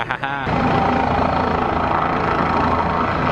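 A helicopter passes over the pit road at Talladega during a NASCAR Sunday, its dense rotor and engine roar steady and close, cutting in abruptly after a brief opening.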